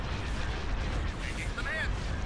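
Starship weapons fire and impacts in the Star Wars Empire at War space battle, with a space station under attack, form a dense, continuous rumble of blasts and booms, with a brief chirping laser sweep near the end.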